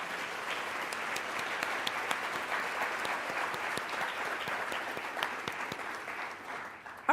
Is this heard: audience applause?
yes